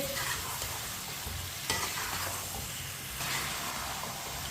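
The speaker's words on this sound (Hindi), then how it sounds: "मसालों को चम्मच चलाते हुए 1 मिनट के लिए पका लेंगे।" Mixed spices crackle and sizzle in a hot pan while a spoon scrapes and stirs through them, the hiss rising and falling with each pass at close range.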